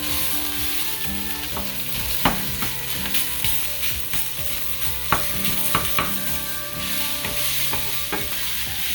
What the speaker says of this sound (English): For your sausage, you want to cook a little low.